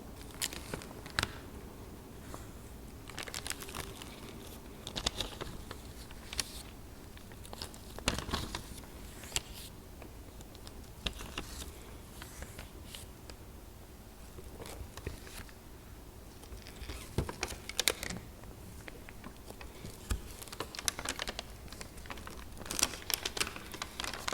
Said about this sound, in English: You can tell this is the old book from the sound of pages.